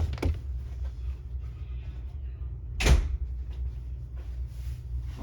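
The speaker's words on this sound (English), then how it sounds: "Let me close my door." A door closes indoors with one sharp, fairly loud thud in the middle of an otherwise quiet room, followed by light faint knocks.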